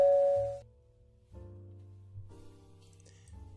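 A two-tone doorbell chimes in an apartment, a bright ding followed by a lower sustained dong, then softer tonal music-like notes continue quietly with no one speaking.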